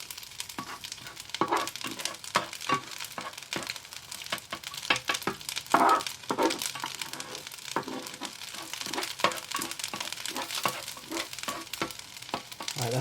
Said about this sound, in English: let's mix up the egg now. So I want to cook it a little bit more.